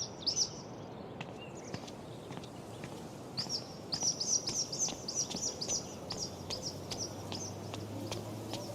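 A bird calls in the video game Life Is Strange: True Colors, sharp high chirps repeating in quick bursts over a soft outdoor ambience, faint at first and then a clearer run of tweets.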